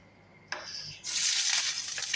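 Garlic hits a hot pan with a sharp sizzle that swells into a steady, bright frying hiss, close and loud, with a brief stirring clatter at the start and no talking.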